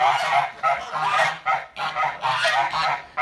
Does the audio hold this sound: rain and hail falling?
no